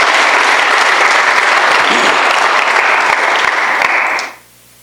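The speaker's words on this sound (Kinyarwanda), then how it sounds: "Dukomere umwami wacu Yesu amashyi bene data." A church congregation bursts into sustained, loud applause, dense clapping filling the room for about four seconds before cutting off abruptly.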